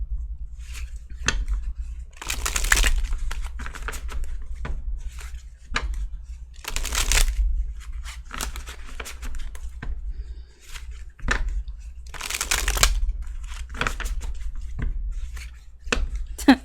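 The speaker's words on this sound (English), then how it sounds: "sometimes I'm silent when I'm shuffling because I don't want to drop the cards" Tarot cards being shuffled by hand, with repeated crisp riffles and bursts of sliding card noise at irregular intervals over a low steady hum, close and fairly quiet, no talking.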